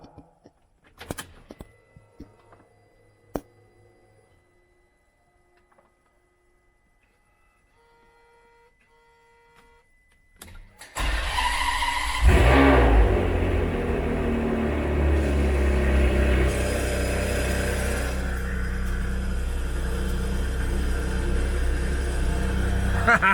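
After some quiet clicks and faint beeps, a Ferrari engine cranks and roars to life in a garage, then revs loudly and keeps running with a deep, steady rumble nearby.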